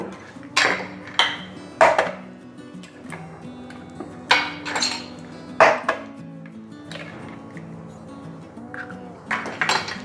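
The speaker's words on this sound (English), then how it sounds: "Break the eggs into a mixing bowl." Sharp taps and cracks against a bowl come one after another at uneven intervals, with soft kitchen clinks and a faint hum underneath.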